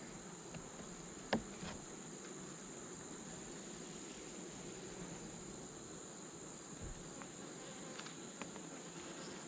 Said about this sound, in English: What's that, a black murder hornet or something? Trying to sting me there.